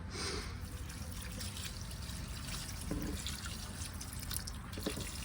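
Water pours onto a potted plant outdoors, a steady close trickle and splash running throughout with a few brief drips and no speech.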